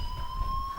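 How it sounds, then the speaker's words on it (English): A fire alarm in the video game Life is Strange gives off a steady electronic tone, continuous and unbroken throughout. "do you hear that fire alarm?"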